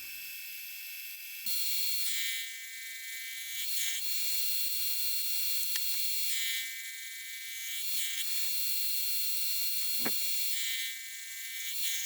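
A milling machine with a single point cutter cuts teeth into a small pulley, giving a steady high-pitched whine and hum with a brief rise in the middle and a few faint clicks and knocks, with no talking.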